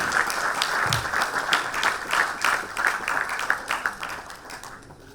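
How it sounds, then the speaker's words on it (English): Audience applause at a motorsport annual awards ceremony for a young award recipient, a sustained patter of many hands clapping at moderate distance, steady and then tapering slightly toward the end. "Let's have a round of applause for him, ladies and gentlemen"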